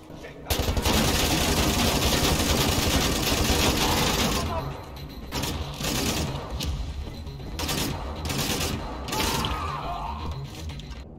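Wolfenstein The New Order gunfire erupts in a loud, sustained automatic burst, then breaks into shorter volleys and single shots with mechanical clatter, while a player talks over the action.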